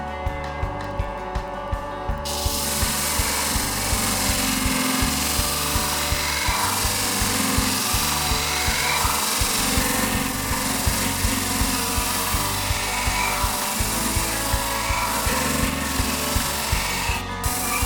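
A sharpening machine grinds a shear, knife or clipper blade on a 1200 grit surface, a continuous rasping scrape with a rhythmic pulsing drone, loud and steady after a short quieter start.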